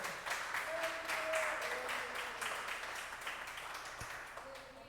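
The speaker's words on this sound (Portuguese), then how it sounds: "Você pode aplaudir o Senhor nessa noite," A church congregation claps together in a sustained, steady round of applause that fills the room, with a brief tonal sound rising above it now and then.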